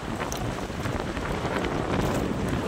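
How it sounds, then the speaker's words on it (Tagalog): Strong typhoon wind buffets the microphone on a fishing boat at sea with a constant rough roar, broadband and loud throughout, with water noise beneath it. "Lakas, grabing lakas na ang hangin kanina"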